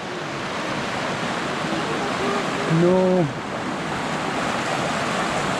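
Rushing creek water roars steadily as a close, dense wash on the Kanarra Falls hike near Kanarraville, Utah, with a brief spoken word rising over it midway.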